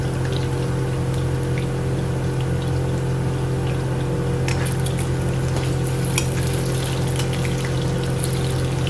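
Potatoes frying in a pan for a green mutton pulav, a steady low sizzle and bubbling hiss running continuously, with occasional faint clicks and crackles, no talking.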